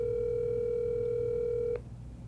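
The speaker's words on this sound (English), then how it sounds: "A phone call from Thomas, that's rare" A steady telephone dial tone for an incoming call holds at a constant pitch, loud and clear for nearly two seconds before cutting off abruptly, leaving low background noise.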